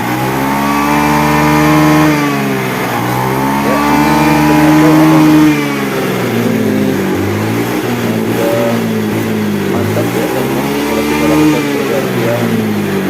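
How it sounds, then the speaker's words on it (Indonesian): Honda Beat motorbike engine idling steadily with repeated rising and falling revs, close and loud, the bike having had a misfiring fault and throttle position sensor work. "Kita hidupkan motornya"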